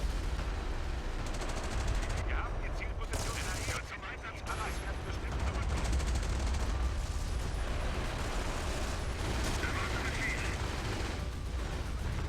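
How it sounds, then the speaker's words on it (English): A Panzer IV H tank fires high-explosive rounds in a video game battle. The shots are buried in a dense, unbroken wall of loud gunfire and explosions that runs the whole time. "My mate supporting me with a Panzer IV IVH using high explosive rounds."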